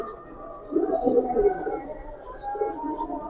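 A large Giribaz pigeon of an old breed gives low, throaty coos in short, close bursts.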